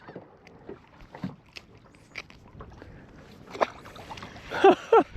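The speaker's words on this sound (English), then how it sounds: "Man, you ought to hear these shrimp popping all around me." Tiny shrimp pop in lake water: scattered faint clicks and crackles that come irregularly at close range and grow sharper and louder toward the end.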